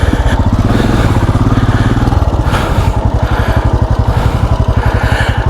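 Royal Enfield Scram 440 motorcycle climbing over a rock off-road, its single-cylinder engine thumping loud and close in a steady pulsing chug throughout.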